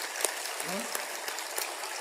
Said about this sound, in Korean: 감사의 박수를 하나님께 드립니다